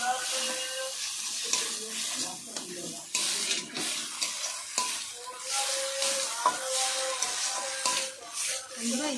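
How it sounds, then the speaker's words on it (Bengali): Pumpkin leaf paste being stirred and fried in a pan at home, with continuous sizzling and scraping strokes of a spoon against the pan, close and fairly loud. "এইভাবে ক্রমাগত নাড়তে হবে"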